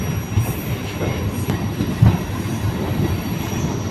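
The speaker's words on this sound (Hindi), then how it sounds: "बाकी यहाँ से भी अपनी ट्रेन का डिपार्चर हो चुका।" A train pulls out of Chunar Junction and rolls along the rails, a steady rumble with faint wheel clatter and a thin metallic squeal, heard up close and without voices.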